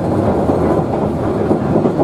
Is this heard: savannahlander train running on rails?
yes